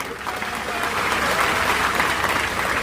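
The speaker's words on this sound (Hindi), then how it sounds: "उनके नाम की जरा एक ताली लगाएं" Steady crowd applause at a Samvidhan (constitution) rally, a dense continuous wash of clapping from a large audience holding level throughout.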